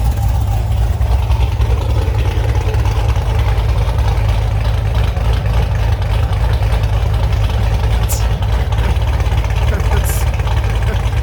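A Chevrolet Camaro engine idles just after its first start, warming up with a steady, loud, deep rumble that continues unchanged throughout.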